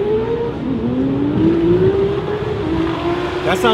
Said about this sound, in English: That sounds like USP Motorsports S4.